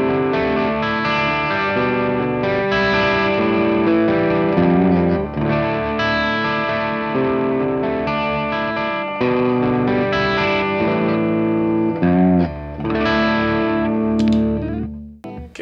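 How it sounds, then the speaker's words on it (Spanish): Electric guitar played through an Ibanez Tube Screamer overdrive pedal with its controls set to the middle, giving a gritty, sustained overdriven tone. Steady chords and melodic notes ring continuously and loudly for about fifteen seconds, with no talking. "Que el Tube Screamer tengo todo en la mitad, pero como ustedes escuchan tiene más ganancia."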